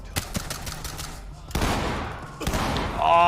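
Video game shootout gunfire: a few quick sharp shots early on, then louder dense bursts of firing that swell toward the end, close and punchy.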